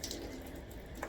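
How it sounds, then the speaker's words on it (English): Warm tap water runs at low pressure during a curly hair routine, a soft, even faint rush with no talking. "I'm gonna use warm water again. turn the pressure down all the way."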